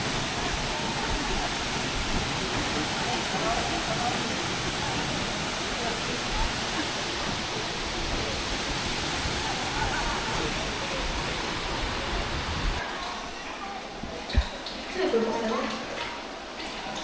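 A waterfall on Camiguin island pours in a dense, steady roar up close, cutting off abruptly near the end, where a few knocks and faint voices follow in the quieter surroundings.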